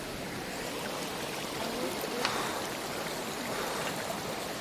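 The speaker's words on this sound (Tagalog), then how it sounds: "Ito yung tubig niya, itong sapa niya." A small stream on a trail to Malatan-og Falls in Don Salvador washes and trickles in a steady, even rush of water, fairly close and continuous with no voices over it.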